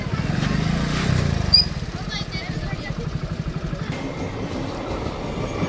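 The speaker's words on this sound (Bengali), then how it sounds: "আমার সামনেতে যে ট্রেনটা যাচ্ছে হাওড়া থেকে ব্যান্ডেলে যাচ্ছে, ব্যান্ডেল লোকাল।" A Howrah to Bandel local train running past close by, its wheels beating out a fast, even rhythmic clatter that swells up loud and then continues steadily to the end.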